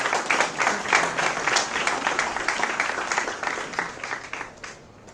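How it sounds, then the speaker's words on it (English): Sustained applause from a seminar audience welcoming a guest speaker at an inaugural session, dense clapping holding steady for several seconds before thinning slightly toward the end. "Can we welcome him with a big round of applause?"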